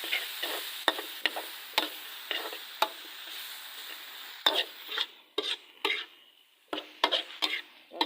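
Dry pad kaprao, basil pork, being stir-fried in a pan with no added water: steady scraping and tossing with a faint sizzle, punctuated by sharp spatula knocks against the pan, close by with no talk.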